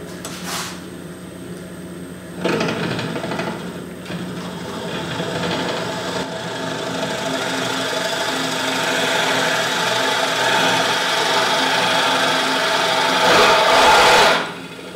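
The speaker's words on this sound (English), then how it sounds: "I got my drill bit set up, and I'm going to make a relatively small hole in this" A wood lathe spins a wooden pendant blank while a Morse taper twist drill bit bores a small hole, giving a steady mechanical whir and hum that builds and holds, close up, with a brief louder scrape near the end.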